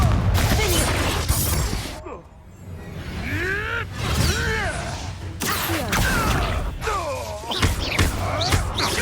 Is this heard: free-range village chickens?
no